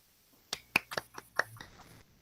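Several sharp, close hand claps or snaps during an online chemistry class meeting, about six quick irregular hits over a second, heard alone without talk.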